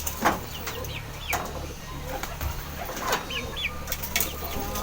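A racing pigeon returns to its loft after a training flight, with bursts of wing flapping, soft cooing and other birds' calls around it at close range.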